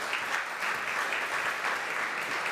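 Congregation at a Sunday service clapping together, a soft, steady wash of many hands at moderate distance, even and continuous from start to finish.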